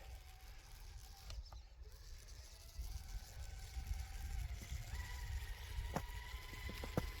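A Traxxas TRX-4 Bronco RC truck crawls in low gear over snowy terrain on Deep Terrain Traxx, giving a steady mechanical gear whine with creaks and a few sharp clicks near the end. No one speaks.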